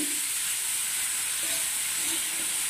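Chopped onion and grated radish stir-fry in a small pan for radish palya, making a steady, loud, close-up sizzle with faint stirring underneath and no talking.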